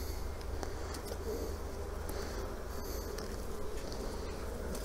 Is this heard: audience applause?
no